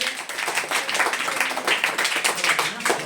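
Schoolchildren in a classroom clap together loudly for a classmate, a dense, steady patter of many small hands lasting the whole stretch at close range.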